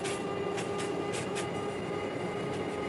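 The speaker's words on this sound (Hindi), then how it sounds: "And here we are almost about to overtake this train." A train rolls alongside in the RG Train railway simulator game, a steady, continuous rumble of wheels and carriages. It holds an even loudness throughout, with no voices.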